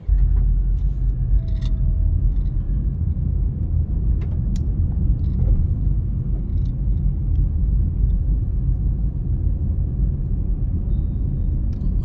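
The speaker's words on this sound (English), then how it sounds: "let's take a quick drive through the Silverstone community." Car interior during a drive through the Silverstone community in Portmore: steady, loud low road rumble and engine drone throughout, with faint small rattles and no talking.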